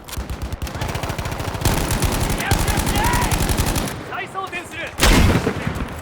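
Rapid machine-gun fire and battlefield gunfire from Battlefield V, sustained and loud with dense overlapping bursts, a heavier blast near the end, and a voice talking faintly underneath.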